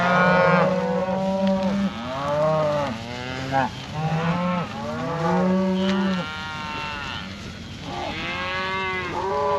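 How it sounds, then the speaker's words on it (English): Several cows mooing loudly and close by, long drawn-out calls overlapping one after another with brief gaps between them. "Some good looking cows in here."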